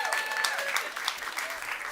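An audience at a climate week panel event applauds a catering partner, a dense, steady burst of clapping filling the room for a couple of seconds.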